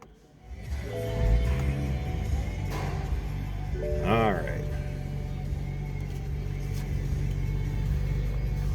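A 2014 BMW 435i Sport Convertible engine cranks and catches with a short rising rev, then settles into a steady low idle rumble, close by, with a few brief mechanical chirps.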